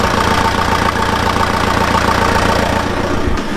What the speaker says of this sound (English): Let's check the engine.